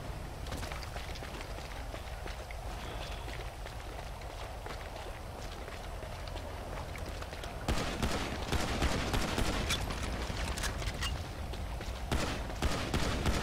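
Gunfire in Grand Theft Auto at a pier, a dense rattle of shots that swells louder and busier halfway through over a steady noisy game background.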